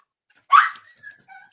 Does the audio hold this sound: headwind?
no